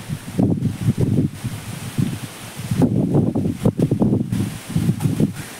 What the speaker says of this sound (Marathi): वारो पण खूप सुटला